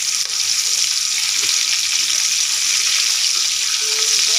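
Pieces of rohu fish fry lightly in oil in a pan, giving a steady, dense sizzle that holds at an even level throughout, close by, with no voices.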